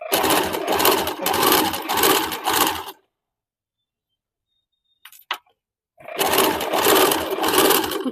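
Sewing machine stitching piping onto a blouse neckline, running in a rapid rhythmic burst for three seconds, pausing in near silence with a brief click, then starting again.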